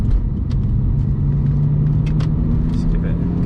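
A BMW E46 330Ci Clubsport pulls along the road, its engine a steady low drone with interior rumble and faint clicks, heard from inside the cabin without talk.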